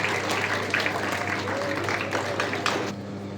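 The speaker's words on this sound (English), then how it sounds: "Please welcome him with a big round of applause." A school audience applauds a student welcomed onto the stage, a moderate, fairly distant round of clapping over a steady low hum, easing off at the end.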